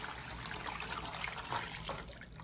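Hot tap water pours and trickles over lasagna noodles in a kitchen dish, a soft steady splashing stream at low level with no talk.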